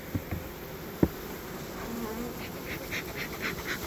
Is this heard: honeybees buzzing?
yes